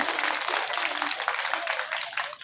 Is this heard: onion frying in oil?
no